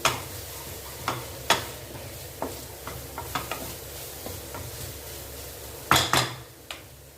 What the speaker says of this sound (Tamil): நல்லா மாங்காய் அந்த பச்சை வாடை, அந்த ஈரத்தன்மை போக நல்லா வதங்கி வரணும்.